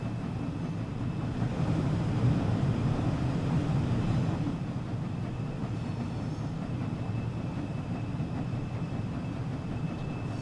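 A steam locomotive in Train Sim World 6 runs along the West Coast Main Line, with a steady low rumbling rail roar that holds at an even level throughout.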